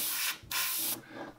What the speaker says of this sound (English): my airbrush is not blowing the greatest